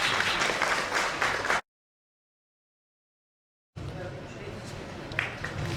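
Steady clapping from a crowd, cut by a two-second gap of silence, then resuming at a similar level.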